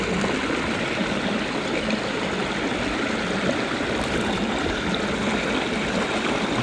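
A stream recorded underwater flows and bubbles around submerged logs, making a steady, dense rushing wash that holds at an even level for the whole stretch, with no voices.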